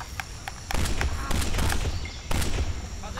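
Gunfire in the video game Kane and Lynch: Dead Men, with several loud, sharp bursts standing out over steady in-game background noise and a hint of voices.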